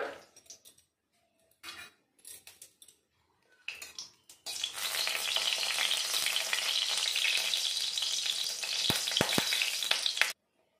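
Whole dried chillies hitting hot mustard oil for a Bengali sour mango dal tempering, a few spoon clinks and scrapes first, then a loud, steady sizzle that runs for several seconds before cutting off, with brief clicks near the end.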